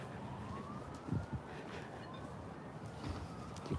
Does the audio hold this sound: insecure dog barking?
no